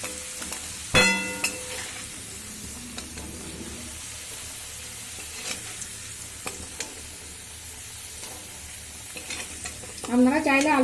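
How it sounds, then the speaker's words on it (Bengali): Potatoes frying in oil over a medium flame, with a steady low sizzle, sharp clinks of a utensil stirring against the pan, and a louder burst of scraping near the end. "আলুটা আমি একটু মিডিয়াম ফ্লেম করে লাল লাল করে ভেজে নেব।"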